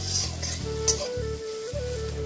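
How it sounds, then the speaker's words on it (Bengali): Ginger and onion sizzle in hot oil in a wok, a steady close frying hiss with a low hum beneath and a single bright clink near the start. "এবার সবকিছু 2-3 মিনিট একটু লাল করে ভেজে নেব।"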